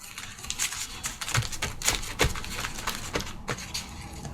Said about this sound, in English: we're gonna crumple that up